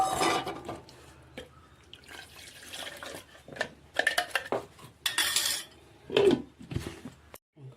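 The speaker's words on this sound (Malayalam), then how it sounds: "ജാറ് കുറച്ച് ഒഴിച്ച് കഴുകി ഒഴിക്കാം" A mixer jar is rinsed with water and poured out while cooking a coconut fish curry, with clinks and clatters of the jar and utensils, sloshing and splashes coming in irregular bursts close by.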